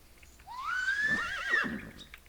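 A single horse in the video game Minecraft Dawncraft whinnies in one clear, rising then wavering neigh lasting about a second, close and alone over a faint background.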